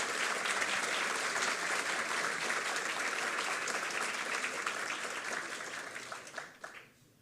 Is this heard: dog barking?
no